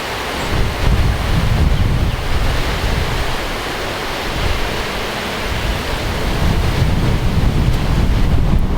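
Strong wind blows across outdoor bee hives during a honey harvest, roaring and buffeting the microphone in a loud, continuous wash that swells and eases slightly, with no voices.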